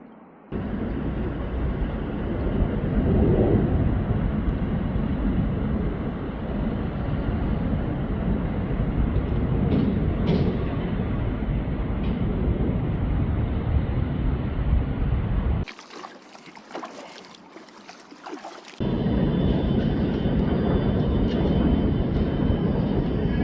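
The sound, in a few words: airplane flying overhead near river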